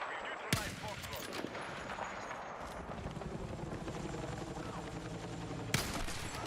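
Video-game gunfire in a battle against a helicopter, with shots hitting its gunner: a steady rotor drone under scattered bursts of shots and sharp cracks, loud and continuous throughout.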